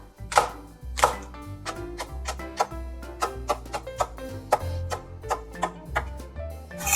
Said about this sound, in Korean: 청양고추 3개를 동글동글하고 얇게 썰어 넣어주세요